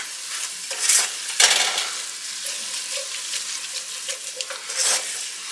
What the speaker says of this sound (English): Gonna give this a good stir.